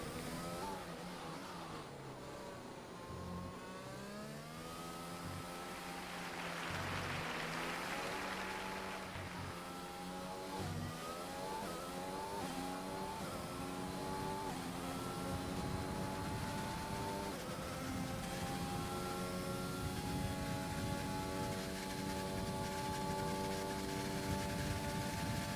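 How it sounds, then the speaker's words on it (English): A race car engine in an XRL racing game at a Mexico round whines steadily, its pitch climbing and dropping sharply as it shifts gears aggressively into the first corners, loud and continuous. "Very aggressive gears there coming into the first few corners."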